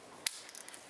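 Brief metallic ratchet clicks from a wrench with a 15 mm socket working on a water pump bolt of a 2007-18 Jeep Wrangler engine, one sharp snap followed by a few faint quick clicks.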